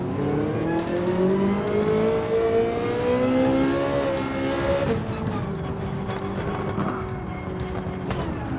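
Ferrari 458 Italia engine in a racing video game, loud and close, revving with rising pitch through the gears before easing off into a steady drone, with no talking.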